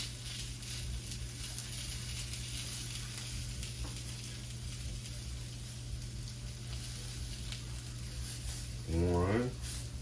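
Food frying in a skillet over a stovetop flame, giving a steady, continuous sizzle with a low hum beneath it and a brief louder burst near the end.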